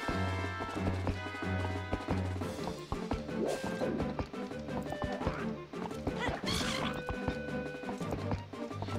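A horse gallops in Zelda: Twilight Princess with rhythmic clip-clop hoofbeats under game music, broken by sharp crashing hits and a whinny, moderately loud.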